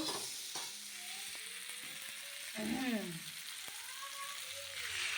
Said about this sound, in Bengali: ফুলকপি কষানো হয়ে গেছে বন্ধুরা মশলা দিয়ে এবার জল দিয়ে দেবো